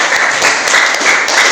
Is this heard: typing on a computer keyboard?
no